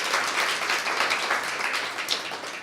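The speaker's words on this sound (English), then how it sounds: "give her a round of applause." An audience applauds steadily at a live body language show, a dense wash of clapping held at an even level for the whole stretch.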